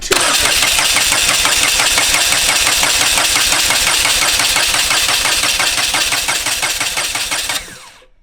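Engine cranking over steadily with a fast, even rhythmic chug during a fuel injector flow test, loud and close for about seven and a half seconds before cutting off abruptly, with no talking.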